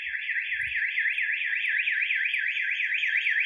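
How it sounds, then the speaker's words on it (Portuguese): A loud electronic house alarm wails continuously, sweeping up and down in a steady rapid cycle, with a few faint low thumps early on. "E esse alarme disparado nessa casa aqui?"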